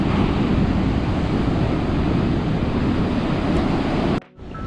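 Loud, continuous roar of ocean surf on a beach on the NSW South Coast, Australia, with heavy wind buffeting, waves crashing steadily nearby before the sound abruptly drops near the end.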